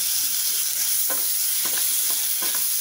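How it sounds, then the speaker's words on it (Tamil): Onions and freshly added chopped tomato sizzle steadily in a hot pan for a fish kulambu, with a few soft scraping stirs breaking through the constant frying hiss; no voices. "இப்போ இதில் ஒரு தக்காளி கட் பண்ணி வச்சுருக்கிறத போட்டுக்கலாம்."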